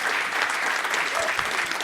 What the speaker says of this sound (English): How about a round of applause for Andy Gutman?